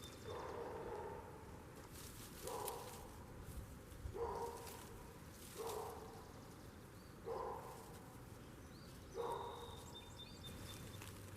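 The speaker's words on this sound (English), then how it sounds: "so the neighbor's dogs are barking" Neighbor's dogs barking in the distance in a rural lane, faint repeated barks spaced every second or two over quiet outdoor ambience.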